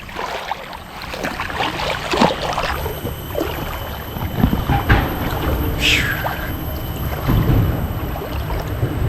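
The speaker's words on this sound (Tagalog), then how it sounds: "Malakas pa yung alon no." Strong sea waves slosh and splash around a small boat, with bursts of water and rushing noise in uneven surges close by, and faint voices appear briefly.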